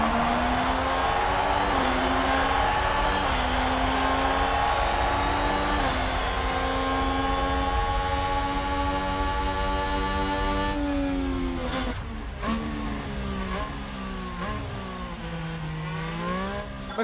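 F1 race cars launch from the start of the Mexican Grand Prix in the video game F1 Manager 2022, a dense wall of high engine whines climbing in pitch through the gears, loud and continuous with no talk.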